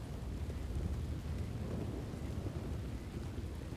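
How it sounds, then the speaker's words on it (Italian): A thunderstorm rolls on during a horseback-riding game, a low, continuous rumble with windy buffeting and faint rain, steady and muffled with no speech. "Però senti quanto rilassa il rumore della tempesta,"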